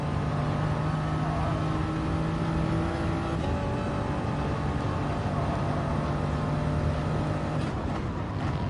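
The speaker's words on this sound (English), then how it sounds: "Get on the gas hard through there in the center." Race car engine accelerating in a racing video game on a Sardegna circuit, a loud, steady engine whine with tones shifting as revs climb and change, continuous and close, with no voices.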